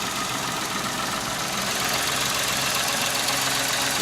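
Small petrol engine of a Peugeot 107 idling steadily after a manifold and catalytic converter replacement, a continuous close, even hum with faint mechanical ticking and no talk.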